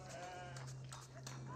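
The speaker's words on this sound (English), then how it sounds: "got a lot of sheep being collected over here" Sheep bleat in short, thin calls in the Age of Empires 4 video game, layered over a steady low hum and background game ambience.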